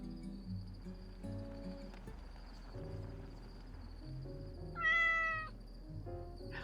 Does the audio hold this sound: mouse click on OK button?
no